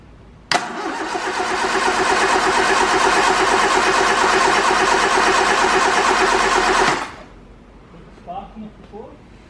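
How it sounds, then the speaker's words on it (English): An old car engine, unstarted for over two years and fitted with a swapped ignition coil, catches abruptly and runs loud and steady for about six seconds before cutting off. A few faint voice sounds follow in the quiet. "Alright, we'll just see if it runs."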